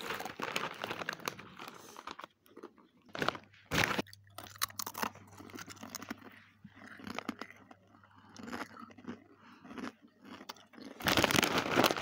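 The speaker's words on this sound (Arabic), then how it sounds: "يا جماعة سمعين صوته كيف عم بيقرمش؟" Forno Zaki chips crunched while eating, close to the mic, with irregular crisp bites and chewing separated by short quiet pauses and no talking.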